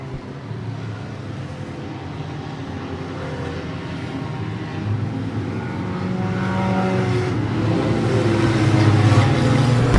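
Roar of a pack of race cars at an enduro race running five wide into turn 1, a steady engine drone that grows louder over the stretch.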